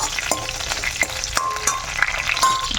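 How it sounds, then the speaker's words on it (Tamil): Dried and green chilies frying in oil on a low flame, a steady close crackling sizzle with a few light taps of a stirring spoon. "லோ ஃப்ளேமில் வச்சு நல்லா ஃப்ரை பண்ணிக்கோங்க."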